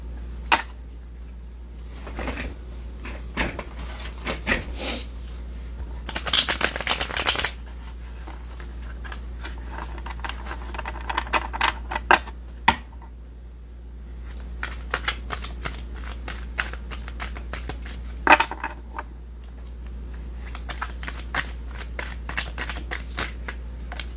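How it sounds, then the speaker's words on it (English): Cards riffled and shuffled close by, several bursts of crisp fluttering and snapping, with quiet pauses between and a low steady hum underneath. "One more shuffle."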